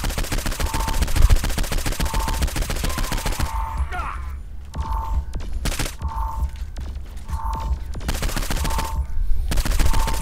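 Alien rifle gunfire in the video game Saints Row IV: loud, dense bursts of rapid shots in repeated volleys with short pauses between, under a constant roar of background noise.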